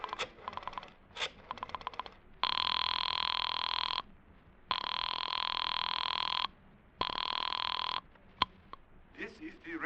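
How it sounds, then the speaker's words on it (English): A telephone rings in a 1950s American radio drama: three long, loud electric bell rings with silent gaps, preceded by dialing sounds and followed by a voice beginning to speak. "I dialed it."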